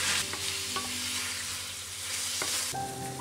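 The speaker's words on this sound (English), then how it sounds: "Stir fry for about 1 to 2 minutes" Snow peas and Chinese sausage stir-fry in a wok with a soft, continuous sizzle, broken by occasional metallic clinks and scrapes of the spatula and a low hum behind it, and nobody speaking.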